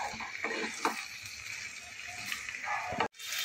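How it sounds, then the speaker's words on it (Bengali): Rice is stirred with spices in a pan for cauliflower pulao, with soft scraping strokes over a faint low sizzle that is quiet throughout and drops out briefly near the end. "এবার আমি 1 মিনিট সময় মতো ধরে 1 মিনিট সময় ধরে আমি চালটাকে আগে মশলার সাথে ভালো করে নেড়ে নেব"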